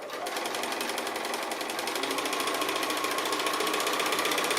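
A sewing machine chain-pieces quilt pieces, its needle hammering in a fast, steady mechanical rattle that starts at once and runs loud and close throughout, with no talk.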